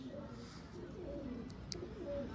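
Pigeons coo softly in low, repeated notes during pigeon catching, with faint bird chirps and steady background noise throughout.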